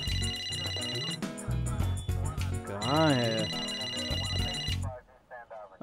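A telephone rings at midnight in a Hindi-dubbed South Indian romantic action film, a continuous electronic ring running under music and a voice, then stopping near the end.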